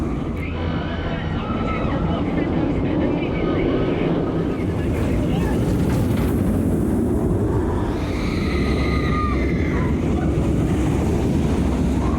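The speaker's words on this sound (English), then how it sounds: "There goes the monorail" A monorail passes at Alton Towers theme park, a continuous rumbling whoosh that swells and fades over a loud outdoor crowd background.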